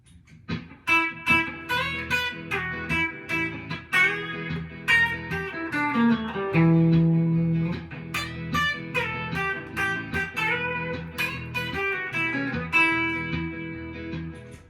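Twangy electric guitar playing quick, busy classic country licks blending major and minor pentatonic notes, with bent notes and a steady rhythmic pulse, clear and up close with no voices.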